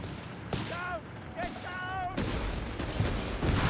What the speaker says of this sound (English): Piet section getting absolutely bombarded there by the grenade launchers.